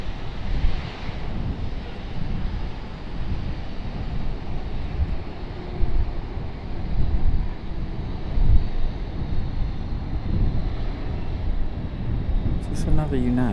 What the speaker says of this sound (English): No, this is JetBlue E190. Ooh, will JetBlue be a butter landing?